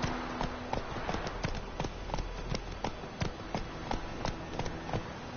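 Roach the horse galloping in The Witcher 3, a steady run of sharp, evenly spaced hoofbeats, close and prominent over a constant background bed.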